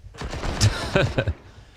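Brief, close bursts from an SMG in Counter-Strike on the Inferno map: a few clustered rapid shots across under two seconds, trailing into quiet.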